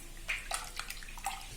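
Ground spice paste is stirred into tamarind water in a pot for sukku milagu kuzhambu, giving soft, brief liquid sloshes and swirls, close and faint.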